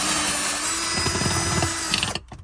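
A power drill whines steadily at close range, grinding and straining through material before stopping abruptly, leaving a few faint rattles; the drill bit is ruined, during camper van work.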